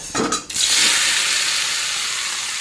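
Okra dropped into hot oil in a pan, sizzling loudly with a bright hiss that bursts in after a short clatter and keeps frying steadily close by.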